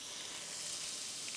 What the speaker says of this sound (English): Oh, that sound of sizzling,